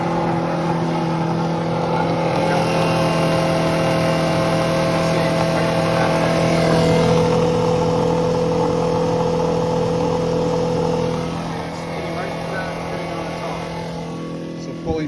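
A 5.5 water pump runs steadily with a strong droning hum and a tonal whine, loud and close and holding constant before dropping slightly in level near the end.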